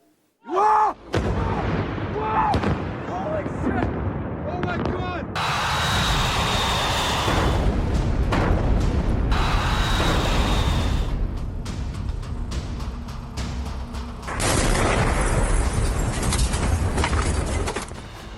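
A series of heavy booming blasts and rumbling impacts from bombing of an oil refinery in Tehran, loud and close, continuing with sustained roaring noise; no talking.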